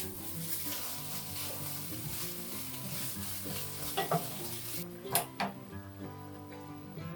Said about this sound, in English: add the blanched seaweed stems and stir-fry for just 2 minutes